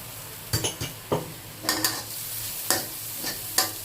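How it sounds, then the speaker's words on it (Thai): Garlic and chili stir-fry in a hot pan for salt-and-chili prawns, with a sizzling base under repeated scraping strokes of a spatula against the pan, close and steady with no talk. "ผัดกระเทียมให้หอม นะคะยายใส่พริกนะคะ"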